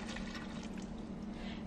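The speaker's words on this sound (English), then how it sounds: "I'm gonna pour this water over it" Water mixed with oil is poured over a teaspoon of yeast for homemade bread dough in a kitchen, a soft steady trickle lasting a moment, faint and alone.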